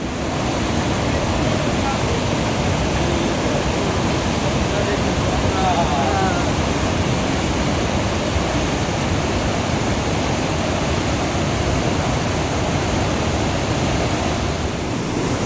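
Steady, roaring rush of a mountain stream or river on the Gangotri trek toward Gomukh and Tapovan in the Himalayas, a broad continuous torrent heard up close with no break throughout.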